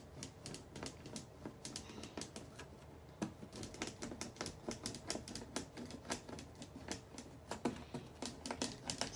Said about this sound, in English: lightly press the blade on the box without actually cutting